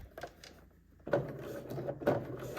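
A mechanical whirring hum starts after a quiet moment, with repeated bursts of motor drive and clunks, like a machine labouring through bulky layers.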